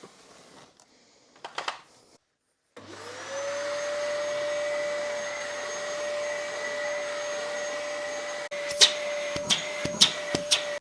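A Dyson DC08 barrel vacuum cleaner with new filters starts after a few handling knocks, spinning up to a steady loud whine that holds, with clatter and bumps near the end.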